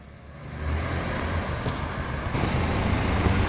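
Hyundai Tucson accelerating on a test drive, a steady engine and road rumble that builds gradually and holds loud and close, with no voices over it.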